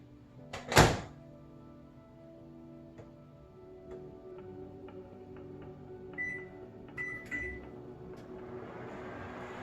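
A microwave oven heating coffee mixed with cocoa powder: a sharp door thunk, then a low steady hum with faint ticking and a couple of short beeps, close by and without speech.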